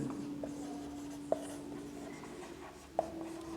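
Pen scratching on paper during a class 10 physics lesson on light and mirrors, faint steady writing strokes under a low hum with two small sharp taps, no voices.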